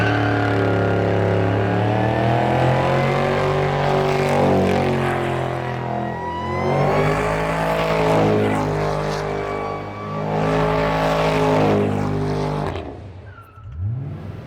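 Old lowrider car engine revving repeatedly in long rising and falling surges as it is driven up onto ramps, loud and close with no talk, then cutting off at the end.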